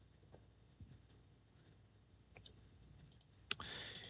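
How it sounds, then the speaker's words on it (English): A computer mouse gives faint, sparse clicks while selecting objects during an Unreal Engine landscape-editing session, a handful of soft ticks ending in a sharper click. "And I'm shift clicking"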